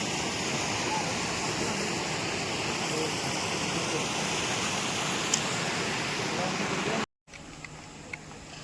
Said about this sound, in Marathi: आता समोर ना आपण वॉटरफॉल बघूया